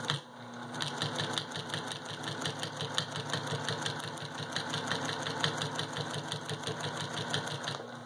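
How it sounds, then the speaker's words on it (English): A sewing machine stitching quilt binding runs in a fast, even, close mechanical chatter of needle strokes that continues steadily throughout. "we're going to stitch towards that interior"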